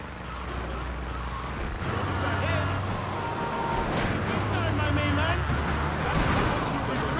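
Car traffic during a deadly street race in Grand Theft Auto III, with engines droning and wailing, siren-like tones rising and falling, heard under a person talking.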